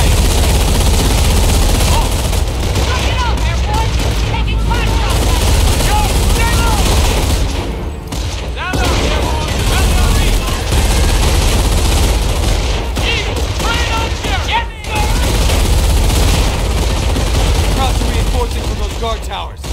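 Gunfire in the video game Company of Heroes, loud continuous machine-gun and rifle fire layered with explosions and a droning aircraft, with game voices shouting orders amid the battle.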